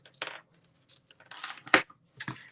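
Ribbon scissors snipping through ribbon while a birthday card is assembled: a few short, crisp cutting snips spread across a couple of seconds, close and fairly quiet, with no talking.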